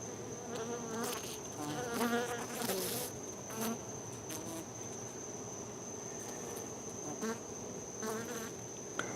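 A honeybee colony hums steadily at the hive entrance in a beeyard at night, with a dense, continuous drone and louder individual bees passing close by in brief swells.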